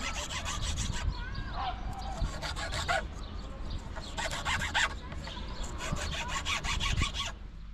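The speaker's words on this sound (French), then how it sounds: "il faut les limer pour enlever le surplus de bois" Steady back-and-forth rasping as a file works excess wood off wooden supports for a model railway station platform, a continuous rhythmic scrape close to the microphone, with no talk.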